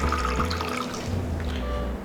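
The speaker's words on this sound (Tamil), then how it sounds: "தண்ணி பார்த்திங்கன்னா ஒரு டம்ளர் அளவுக்கு தண்ணி விட்டுக்குங்க" Water is poured into a heated stone cooking pot, a short splashing, gurgling pour over a low steady hum, fairly close and moderately loud.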